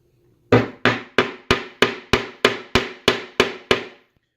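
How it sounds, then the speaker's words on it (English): A hammer strikes a Lee Loader die while reloading .45 Colt cartridges, giving eleven sharp, loud, evenly spaced metallic knocks in a steady rhythm, each decaying quickly, with no talking. "Got my hammer."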